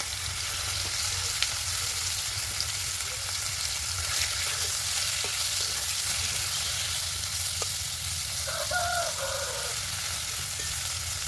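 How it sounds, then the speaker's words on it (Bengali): Washed shingi fish fry lightly in oil seasoned with a pinch of turmeric, giving a steady, even sizzle throughout with a few faint clicks and one brief scrape, heard close with no voices. "এবার ধুয়ে রাখা মাছগুলো দিয়ে দেবো।"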